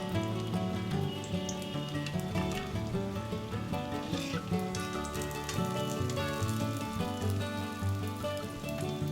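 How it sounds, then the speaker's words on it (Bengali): Jackfruit cutlets fry in hot oil with a steady, fine crackling sizzle. The sizzle runs constantly and is partly masked by louder background music. "এই একই প্রসেসে আমি সবকটা কাটলেটই ভেজে নেব।"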